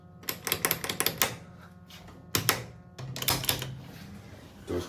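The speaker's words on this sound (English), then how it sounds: "Sounds like something is spinning around in the doors." A 1960s Otis elevator door mechanism rattles in rapid clattering bursts, a fast series of sharp mechanical clicks with short pauses between runs, close and fairly loud.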